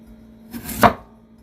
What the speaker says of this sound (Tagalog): Yung pagka-slice po ng carrots natin, ganito, pahaba.